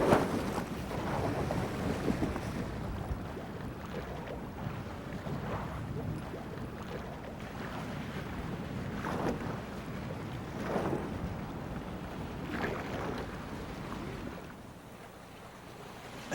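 Sea kayaks paddling through surf off Australia's Great Barrier Reef, with steady wind buffeting the microphone, rushing water and waves, and repeated splashing paddle strokes throughout, no talk.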